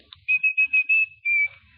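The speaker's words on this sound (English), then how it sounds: "any time you need me, just whistle" A man whistles a short signal tune, several bright, clear notes in quick succession with one longer held note at the end, close up and alone.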